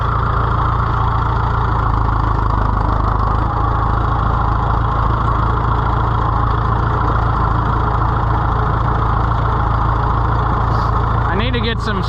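An Oliver 500 tractor engine idles steadily, loud and close, with an even rumble throughout and a brief rising tonal sweep near the end.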